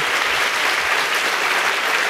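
Sustained audience applause fills a French comedy parliament show as a councillor returns to the presiding seat, a dense, steady wash of clapping throughout.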